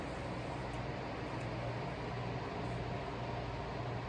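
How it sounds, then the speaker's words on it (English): An air conditioner runs on a hot day, a steady, even broadband hum and hiss that holds unchanged throughout with no voices. "Air conditioner."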